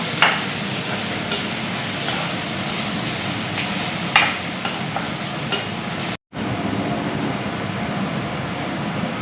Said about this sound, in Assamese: এইফালে অলপ ৰঙচুৱা কৰি কিনে এইখিনি পিঁয়াজখিনি ভাজি লওঁ